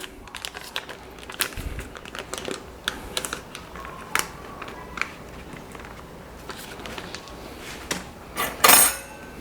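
A stick of softened butter is worked together with cinnamon and brown sugar in a bowl, giving irregular clicks, taps and soft scraping of the utensil, with a louder burst of clatter near the end.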